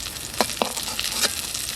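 Eggplant frying in hot oil makes a steady hiss, with a few sharp sputters and crackles rising above it over a short stretch.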